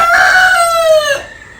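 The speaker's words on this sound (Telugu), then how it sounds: "సో ఈరోజు అయితే చైనీస్ కోళ్ళు అంటాయి, అవి చైనీస్ సిల్కీ కోళ్ళు." A Chinese Silkie rooster lets out a single loud, close crow that holds steady briefly, then drops away and trails off into quiet.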